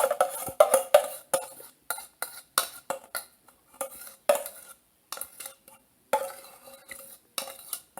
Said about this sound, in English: Now you have to mix it all up. Make sure to mix it evenly.